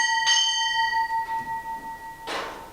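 A ship's bell rung for an official party's arrival at a naval retirement ceremony in San Diego, a bright clang near the start whose ringing tone hangs and slowly fades, with little else around it.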